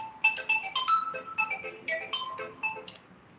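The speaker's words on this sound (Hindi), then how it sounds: "1 मिनट फोन आ रहा है" A mobile phone rings with an incoming call: a bright electronic melody of quick, repeating notes plays on its own at moderate volume for several seconds.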